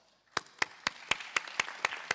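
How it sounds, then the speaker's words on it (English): After a moment of quiet, hands clap in a steady even rhythm, about eight sharp claps, close and moderately loud. "Let's give them a round of applause."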